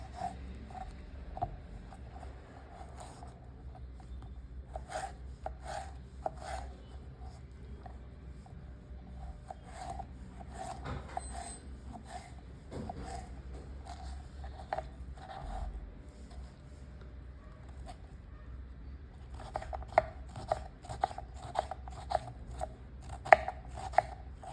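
A knife chopping ridge gourd into small pieces, soft scattered taps at an uneven pace, faint and close, with a quick run of firmer chops near the end.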